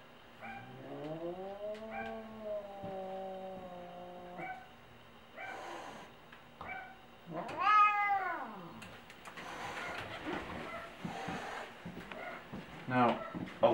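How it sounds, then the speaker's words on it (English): An anxious cat being given a syringe yowls and meows in long drawn-out cries, with low growling and hissing bursts between them, while a person speaks quietly nearby. "you can probably hear him growling"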